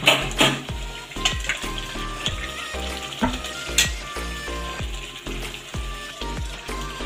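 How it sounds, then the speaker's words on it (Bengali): Fried potatoes are stirred into sizzling spice paste in a pan, with a continuous fry noise and rhythmic spatula scrapes and knocks against the pan, close and moderately loud, no talking. "আলু দিয়ে আর 2-3 মিনিট কষিয়ে নেব।"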